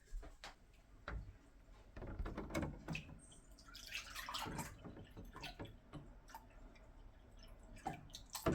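A cup of milk poured into a vanilla pudding cake mixture, splashing and trickling quietly for several seconds, with small drips and a few light clinks of bowl and utensils nearby.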